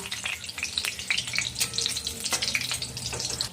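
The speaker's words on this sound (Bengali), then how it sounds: "এবার আমি তেলের উপর গোটা গরম মশলা ফোড়ন দিয়ে দিলাম" Whole garam masala spices sizzle in hot oil that was just used for frying potol, a crackling, popping fry with scattered spits and a steady hiss throughout.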